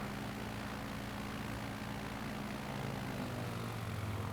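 Light propeller aircraft engine droning steadily in flight, a continuous close, loud hum heard alone from inside the cabin.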